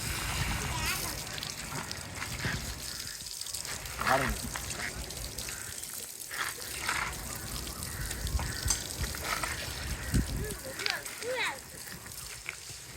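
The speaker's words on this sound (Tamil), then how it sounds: "இப்ப நான் தண்ணி எடுத்து ஊத்துனா தான் இருக்குது" Water splashes and pours in uneven gushes at a birthday celebration, with voices talking loudly over the sloshing almost throughout.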